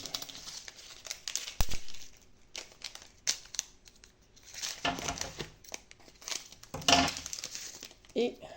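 Plastic pouch packaging being cut open and crinkled, close and irregular with sharp bursts of crumpling and tearing.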